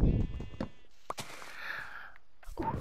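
A sheep bleats in the Minecraft video game, a short wavering cry that stands out clearly in a brief, quiet stretch between other game sounds.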